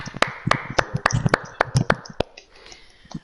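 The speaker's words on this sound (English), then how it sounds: "Let's get a round of applause for our champion." A small, sparse round of applause for a racing champion: scattered individual claps and taps, a few hands beating unevenly and thinning out toward the end.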